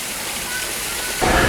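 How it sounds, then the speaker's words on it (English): Small artificial waterfall in an outdoor museum display at La Brea Tar Pits in Los Angeles, a steady broadband rush of falling water, close and fairly loud, swelling slightly near the end. "Nice little waterfall they made here."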